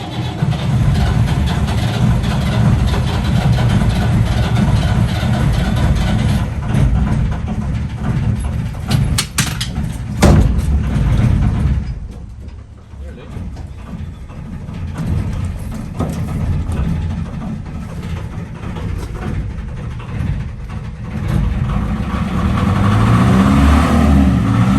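A narrowboat's diesel engine turns over and runs steadily with a deep, low throb, dipping briefly partway through before settling back into a constant near rumble, with no one talking.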